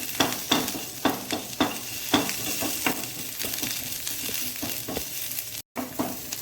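Moong dal paratha filling fries in a pan with a constant sizzle, broken by rhythmic scraping stirs every half second or so, close and fairly loud.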